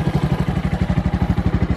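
A CSC SG250 cafe racer motorcycle idling, its exhaust giving a steady, close, even-pulsed putter that sounds loud and clear with no voices over it.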